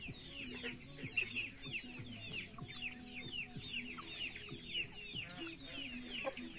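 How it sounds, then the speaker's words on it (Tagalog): A flock of turkeys clucking and chattering continuously at low volume, with overlapping calls, rustling and faint voices nearby. "Yan ang pabo natin."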